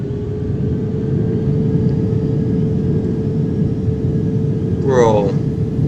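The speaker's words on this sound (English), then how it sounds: "Start engine 1." An Airbus A320 airliner sits with a steady low cabin rumble in the Project Flight video game until its engine spools up near the end, a brief rising whine over the hum.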